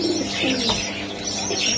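Racing pigeons cooing close by in a soft, continuous murmur, with chirps layered over a steady background hum.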